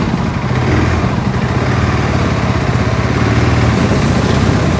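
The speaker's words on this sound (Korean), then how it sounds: "이제 시동을 켠 상태로 이제 앞으로 천천히 움직여 보세요." A Segway ATV engine runs steadily as the machine moves slowly forward pushing a plow, a loud, even motor drone close by with no talk.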